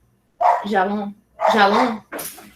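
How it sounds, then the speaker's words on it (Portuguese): Dogs bark at home in two loud, close bursts followed by a shorter third yelp, with no talk over them. "vê ali as cachorras, por favor."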